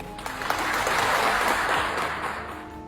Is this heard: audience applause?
yes